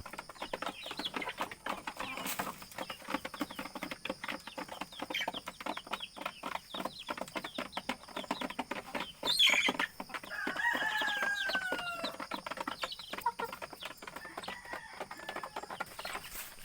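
Native chickens cluck and chatter nearby in quick, busy bursts on a rural farm, with a rooster crowing faintly in the background.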